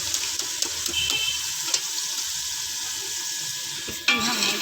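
Green beans added to hot oil with cumin seeds in a home kitchen: a steady bright hiss of frying with small crackles and stirring taps, then a sudden louder surge of sizzle as the vegetables hit the pan.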